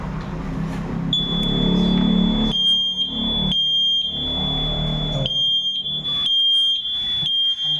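A fire alarm sounds a shrill, high-pitched tone in an intermittent pattern of long pulses, loud and near, with rumbling background noise underneath, during a water flow test of a dual input module.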